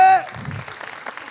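Applause from a yeshiva crowd at a rabbinical crowning celebration in Kfar Maimon breaks out after a spoken call, a dense mid-level patter of clapping that carries on steadily under a brief opening voice.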